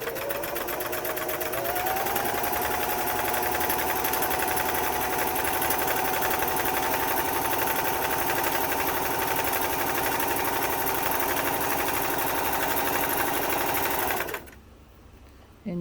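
A Singer 328k sewing machine runs a short, fine stitch with a steady, continuous motor whir and rapid needle clatter for about fourteen seconds, then stops abruptly.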